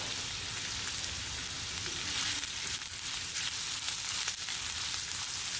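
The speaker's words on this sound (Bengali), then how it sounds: "তেলটা একটু গরম হয়ে গেলে আমি দিয়ে দিব কাঁচা পেঁয়াজ কাটাগুলো" Chopped raw onions sizzle in hot oil in a pan, a bright, continuous hiss of frying that stays steady and close with no talking.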